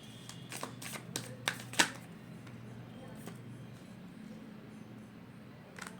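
Tarot cards shuffled by hand in a quiet room, a quick run of crisp riffling snaps in the first two seconds and then only faint background hiss.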